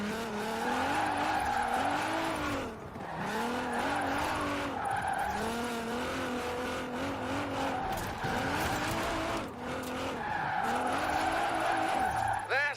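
A car drifts in the racing video game Forza Horizon 4, its engine droning steadily while the tyres squeal and skid continuously throughout.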